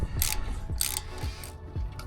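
A ratchet wrench with a 12 mm socket loosens the bottom brake caliper nut on a Toyota Tacoma, giving several short bursts of rapid ratcheting clicks, close and fairly loud, spaced about half a second apart.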